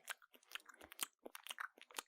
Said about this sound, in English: Don't you hate it when people chew loudly?